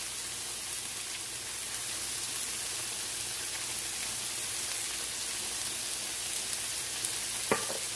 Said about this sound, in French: je vais maintenant cuire les courgettes ou les zucchini